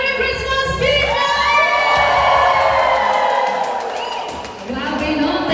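A Christmas party crowd cheers and whoops together in a loud sustained roar, with shouting voices rising and falling and a dip before another swell.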